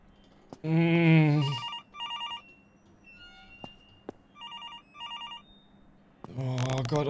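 A telephone rings in the horror game Infliction, four spaced bursts of a bright electronic trill. Someone talks just before the rings and again as they stop.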